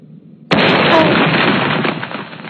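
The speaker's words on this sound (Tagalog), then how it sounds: "Malakas ang tunog at shockwave kapag sumabog pero parang hindi naman nakakasakit." A sudden loud blast from bursting bubbles in an anime battle, a sharp explosive onset followed by a roaring shockwave rumble that slowly fades over a couple of seconds.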